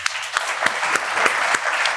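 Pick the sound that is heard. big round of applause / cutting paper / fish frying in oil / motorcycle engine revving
big round of applause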